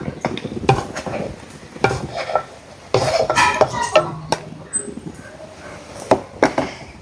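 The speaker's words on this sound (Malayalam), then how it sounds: "നമുക്കിതൊരു പ്ലേറ്റിലേക്ക് മാറ്റി കൊടുക്കാം." Cooked carrot is scraped out of a pan onto a plate, with close spatula scrapes, clinks and knocks against metal in an uneven rhythm and a faint sizzle underneath.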